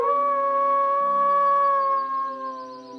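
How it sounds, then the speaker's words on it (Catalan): A cartoon dog howls as it lies on a road, one long loud tonal wail that holds steady and then wavers and fades. "es va trobar un gos que udolava ajagut al camí"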